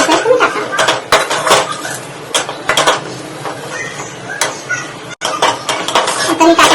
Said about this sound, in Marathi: आता मी टाकलेला मसाला चांगला असा परतून घेतलाय मंद गॅस ठेवून